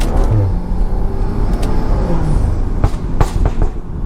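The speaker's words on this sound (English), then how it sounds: "I hit a little downshift" A BMW F30 with an XHP shift tune downshifts under way, its engine note jumping amid loud, steady road and drivetrain noise, with a few sharp clicks near the end.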